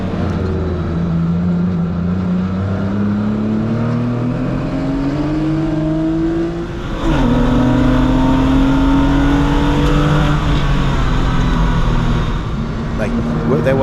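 Porsche Sprint Challenge race cars descend under heavy braking into the Wilson hairpin, engines droning with falling then rising pitch as gears change, a loud continuous roar behind steady race commentary.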